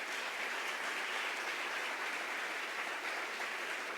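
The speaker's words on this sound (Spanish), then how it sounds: "Recibamos con un gran aplauso" A conference audience applauds to welcome a university rector before his lecture on human rights and education. The applause is a steady, even wash of clapping throughout, faint and distant, with no speech over it.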